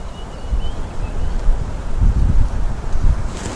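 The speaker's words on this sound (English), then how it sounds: "It is very windy" Strong wind on an African safari roars and buffets the microphone continuously, with low rumbling gusts swelling and easing throughout.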